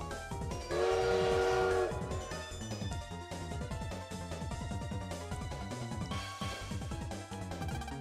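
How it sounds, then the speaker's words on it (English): Train noise from the Mega Man Star Force video game: a loud, bright whistle-like tone sounds early, then rhythmic clattering and a dense musical rumble continue steadily as the train gets moving. "That train's not supposed to be able to move."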